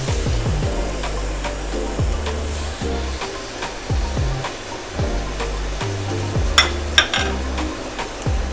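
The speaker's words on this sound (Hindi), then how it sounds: "और इसमें अपनी ये प्याज ऐड कर रही हूँ।" Two finely chopped onions fry in half a cup of hot oil, a steady close sizzle with soft stirring scrapes and a couple of sharp clinks near the end.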